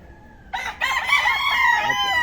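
A rooster crows loudly and close at a chicken farm in Barangay Langgam, Pia Tubi, one drawn-out call that begins after a brief quiet and rises into a sustained harmonic cry.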